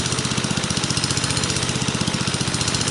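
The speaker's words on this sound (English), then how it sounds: "Governor sounds a little bit bouncy when you drop a big load off of it." A 63-year-old Briggs and Stratton engine runs an RCA generator, its governor hunting under load so the engine note pulses in a steady, rapid bouncing rhythm, loud and close with no talk.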